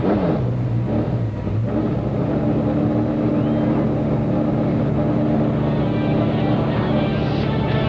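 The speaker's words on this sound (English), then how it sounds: "Drivers, start your engines." Several stock car engines rumble and rev together at Toledo Speedway before an ASA race, a dense continuous roar with rising throttle blips, loud and close throughout.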